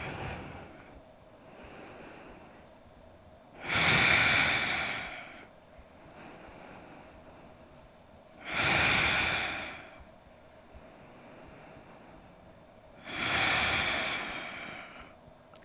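Slow yogic breathing, three long audible breaths spaced about five seconds apart, each swelling and fading softly like a sigh, close and quiet, over faint background hum.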